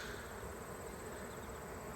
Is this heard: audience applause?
no